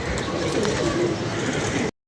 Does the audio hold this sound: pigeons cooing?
yes